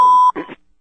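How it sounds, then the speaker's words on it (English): A voicemail beep follows a recorded operator message: a single steady electronic tone holds loud for about a third of a second, then stops abruptly, and a brief faint murmur follows. "Please leave a message after the beep."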